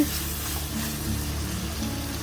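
Onion frying in a pan for hotel-style paneer butter masala, a steady close sizzle with faint stirring running continuously and alone throughout.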